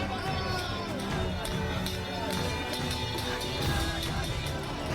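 Thousands of people fill the parade ground at a rally in Dehradun, a dense, constant babble of crowd noise and distant chatter with scattered louder shouts throughout.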